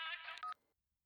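Rapid run of DTMF keypad tones as a telephone number is dialed for a call in a Tamil film, a quick burst of beeps lasting about half a second, then silence.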